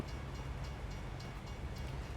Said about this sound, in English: There's the train. Look at that.